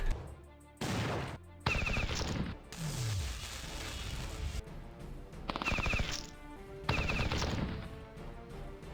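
Bursts of gunfire from the Battle Nations strategy game as troops shoot down attacking boars, loud rapid volleys with brief gaps alongside layered game effects and a falling tone.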